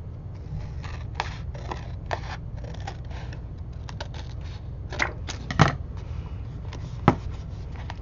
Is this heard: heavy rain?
no